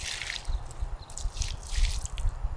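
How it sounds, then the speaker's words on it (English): Boiling water poured onto a hot Blackstone griddle top splashes and sizzles in uneven bursts of dripping and spattering liquid, fairly close and moderately loud, with no voices. "I've got some boiling water that I'm gonna pour on here."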